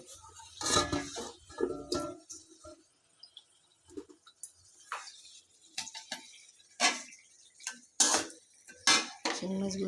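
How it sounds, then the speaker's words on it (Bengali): Stinging catfish being fried in spice paste in a pan, with sharp metal clanks and scrapes of a spatula coming in irregular bursts separated by near silence, close by. "এখন দিয়ে দিচ্ছি আমি একটু শিং মাছগুলো দিয়ে কষিয়ে নেব।"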